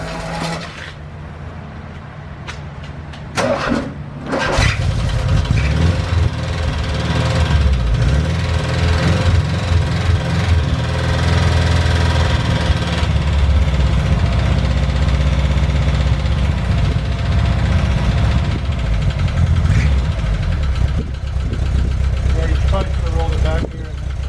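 A few clicks and a brief crank give way to a Volkswagen Vanagon engine catching, then a loud, steady idle rumbles on without pause.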